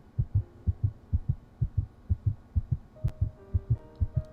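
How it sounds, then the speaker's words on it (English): Heartbeats from the video game Tears of Themis thump in a steady, even double-beat rhythm, soft and low, with a faint musical tone entering toward the end. "Only the sound of your breathing and heartbeats is clear and discernible."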